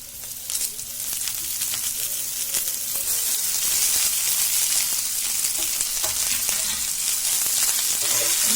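Washed fenugreek greens dropped into onions frying in a pan give a loud, hissing sizzle that builds and holds steady, with faint clinks and stirring scrapes underneath.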